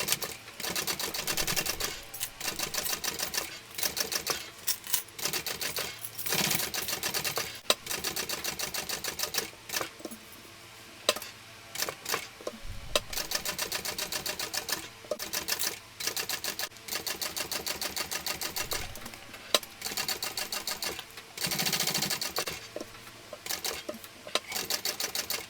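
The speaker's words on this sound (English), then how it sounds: "now I'm going to come in and top stitch our tails" A sewing machine top stitches the zipper tails of a shoulder bag, an eighth of an inch in, in a fairly quiet string of rapid mechanical clatter with brief stops and restarts.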